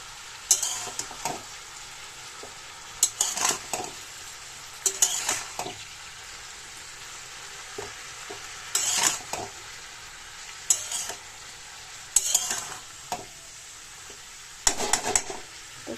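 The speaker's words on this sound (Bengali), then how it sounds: "ওটাকে দিয়ে তখন একসাথে ভাজতে থাকবে" Onion and green chilli fry together in a pan under a soft, steady sizzle. Sharp bursts of spatula scraping and stirring come back again and again, with short quiet stretches between them.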